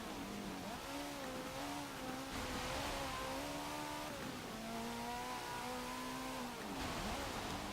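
A 2003 Renault Sport Clio with a twin-turbo V8 swap races in Forza Motorsport 7. The engine holds a steady drone and climbs in pitch through each gear, then dips briefly at every shift over constant road noise.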